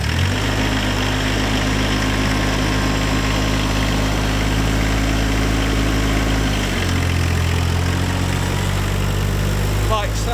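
A tractor with a punctured tyre treated with tyre slime drives backwards and forwards in a field, its engine a loud, steady, close drone that drops in pitch partway through, with a voice talking over it.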